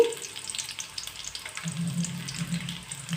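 Chopped onion frying in a pan for chicken curry, a faint continuous sizzle with light stirring scrapes and a low bubbling hiss that swells in the second half.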